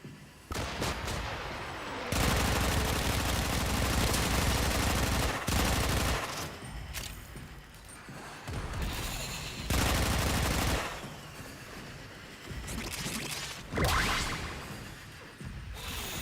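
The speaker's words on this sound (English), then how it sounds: "Who's shooting at me? Stop shooting at me." Heavy gunfire from the Warframe video game, with dense bursts of shots and loud sustained volleys coming in waves, separated by short dips, close and dominant with no voices over it.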